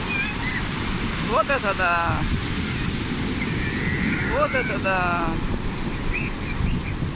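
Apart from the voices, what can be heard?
big storm waves hitting the pier on the Mediterranean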